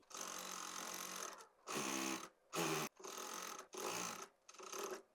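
Sewing machine stitching fabric and elastic for a palazzo, running in five separate bursts of steady rapid whirring with short pauses between them, no talking.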